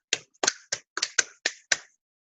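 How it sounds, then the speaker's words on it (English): Seven crisp finger snaps ring out alone in a quick, slightly uneven rhythm, each sharp and bright with a short decay. "I had a habit of snapping my fingers and doing this"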